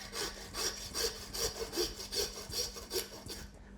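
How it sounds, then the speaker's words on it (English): A hand saw rasps back and forth through the rib bones of a side of pork, about a dozen steady rhythmic strokes close up, stopping near the end. "The first thing I want to do is just saw through the ribs on the top."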